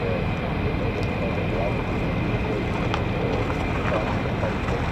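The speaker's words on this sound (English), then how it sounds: "Pratt & Whitney F-135 coming at us right now." An F-35 jet with a Pratt & Whitney F135 engine flies past at RAF Lakenheath, a continuous broad roaring rumble that stays loud and even throughout.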